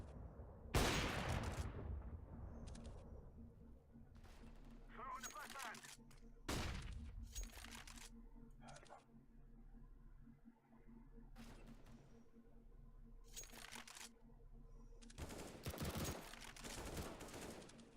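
AWP sniper rifle shots ring out in a Counter-Strike match, several sharp, loud cracks spaced seconds apart with echoing tails over a low game ambience.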